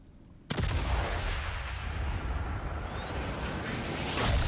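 A sniper rifle shot in the video game Sniper Elite 5, one loud sudden blast after a quiet moment, followed by a long rumbling echo and a faint whistling streak, with another burst near the end.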